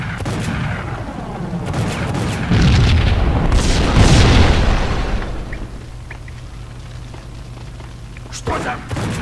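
A building packed with explosives blows up in the video game Max Payne, a loud booming blast with rumbling debris that swells over several seconds and then fades into low ambience, with a brief burst near the end.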